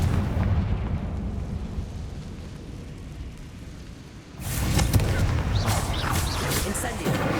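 In the Hogwarts Legacy video game, a Confringo blasting spell fires after several seconds of low rumbling background sound. The blast is a loud burst followed by a crackling, roaring tail that lasts to the end.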